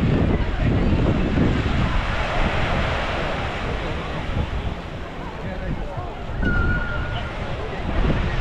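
Heavy sea surf rolls and crashes continuously along an Odessa beach after a storm, a loud, broad wash of breaking waves with gusting wind noise on the microphone throughout.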